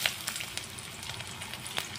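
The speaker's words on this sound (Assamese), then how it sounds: "পিঁয়াজখিনি অলপ ভাজি ল'লোঁ" Onion fries in refined oil in a wok, a faint, even sizzle with soft crackles throughout and no voices.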